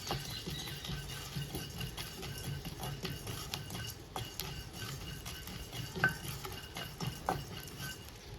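Pumpkin and watermelon seeds light-frying in a pan make a soft sizzle under repeated scraping and stirring, with small clicks of seeds and utensil against metal at an uneven rhythm.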